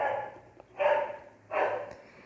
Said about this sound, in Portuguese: cachorro entrando na gravação